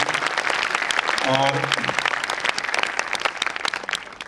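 Loud audience applause at the valedictory function of a 2017 conference, steady dense clapping throughout, with a voice speaking over it.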